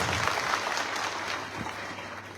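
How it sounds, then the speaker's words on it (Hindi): Steady applause from the audience at a Bhim Army Azad Samaj Party workers' meeting in Datia, an even wash of many clapping hands that holds without a break. "जरा जोरदार ताली बजाओ तोमर साहब के लिए"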